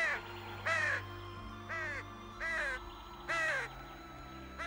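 A cartoon crow caws five times in a slow, evenly spaced series, harsh calls ringing out clearly against a quiet background.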